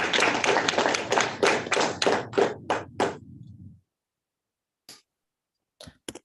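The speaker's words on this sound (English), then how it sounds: "Let's give Stefano another round of applause." An audience at a conference session claps together for a speaker, a dense burst of applause that thins and stops after a few seconds, followed by a few scattered late claps in near silence.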